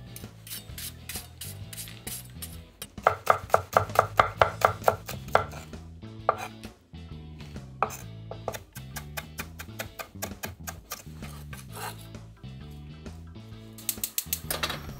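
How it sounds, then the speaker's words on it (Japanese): A knife finely mincing green onion on a cutting board, a quick run of crisp, rhythmic taps, close and clear with no talk. "そして長ネギをみじん切り。"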